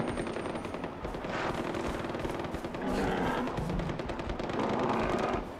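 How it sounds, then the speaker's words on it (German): Gunfire in the video game Far Cry 4, with repeated rapid bursts of automatic shots in a dense, fairly loud stream lasting the whole stretch, without talk. "aber hier wird geschossen"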